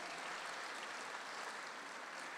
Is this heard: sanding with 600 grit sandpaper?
no